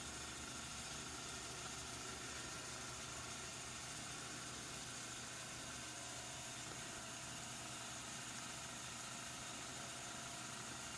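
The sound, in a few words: tumbler turner motor spinning an alcohol ink tumbler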